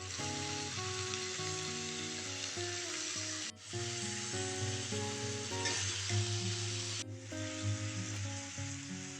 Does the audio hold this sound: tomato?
yes